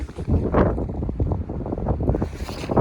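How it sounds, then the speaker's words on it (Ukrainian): Strong wind buffets the microphone in loud, uneven rumbling gusts throughout, outdoors beside a tractor, with no talking. "Можливо трішки задуватиме, бо дуже великий вітер"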